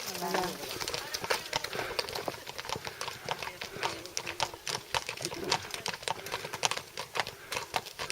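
Rapid hoof clip-clops of a horse dancing on hard ground in an irregular prancing rhythm, close by, with voices chatting over them.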